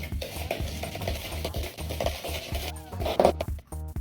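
A spoon scrapes and stirs chocolate chip cookie dough ingredients in a mixing bowl, giving steady rhythmic clinks and scraping up close, with no talking.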